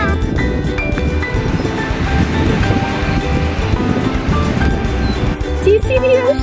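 Ocean waves wash onto a California beach under a dark sky, a continuous roar of surf with wind noise buffeting the microphone throughout.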